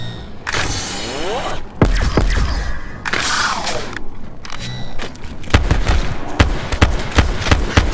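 A ray gun in Call of Duty zombies on the Blood of the Dead map fires repeatedly, each blast a sharp crack followed by a sweeping, warbling sci-fi whine, mixed with heavy impacts and other gunfire, loud and close.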